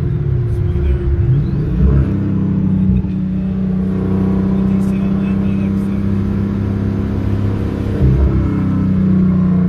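An engine running on AMSOIL Racing 15W-50 motor oil gives a loud, steady close rumble, with rev swells around two and eight seconds, and voices are faintly heard under the drone.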